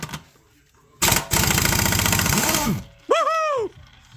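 Impact wrench loosening a stuck bolt on a Mazda engine, a loud rattling hammering burst of about two seconds after a short quiet pause, followed by a brief whirring tail, close up.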